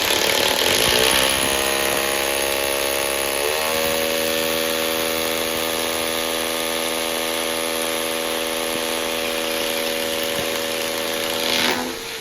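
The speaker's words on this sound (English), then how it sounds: "I drilled 8mm holes for hammer fixings" A power drill boring 8mm holes into a wall for hammer fixings whines continuously and loudly, its pitch shifting slightly as it bites, running steadily for several seconds before stopping.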